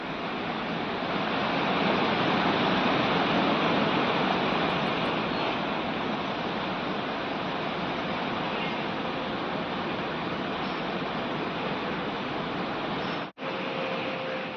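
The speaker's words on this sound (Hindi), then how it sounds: "कहीं पर पानी का रफ्तार आप देखिए किस तरीके से है, जैसे नदियां बह रही हो तेज रफ्तार में।" Fast floodwater rushing along roads like a river after torrential rain in Uttarakhand, a loud, dense, unbroken roar that holds steady throughout apart from one sudden brief cut near the end.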